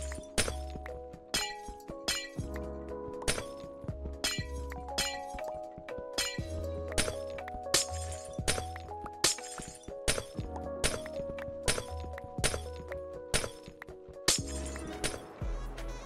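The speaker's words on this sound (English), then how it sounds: "The sound of glass mined." Glass blocks being mined in Minecraft near a witch farm on a hardcore world, a steady run of sharp shattering crashes roughly every second, each with a bright ringing tail over a quiet droning background.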